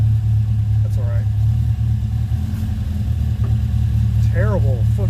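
A car engine idles steadily with a low, even rumble held close throughout, while someone speaks over it now and then.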